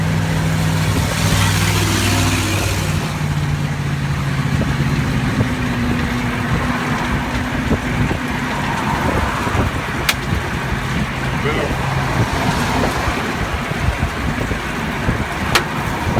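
Trucks zoom past on a road that widens to four lanes, heard from a bicycle as a constant loud roar of traffic and wind buffeting. Engine drones rise and fade as vehicles pass, with a couple of sharp ticks.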